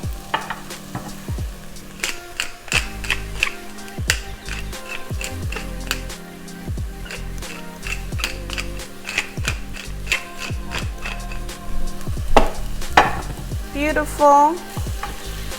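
A Peruvian minute soup base seasoned with salt and pepper sizzles in a pan, with a bright crackling fry under frequent clanks and scrapes of a utensil against the pan and a brief spoken word.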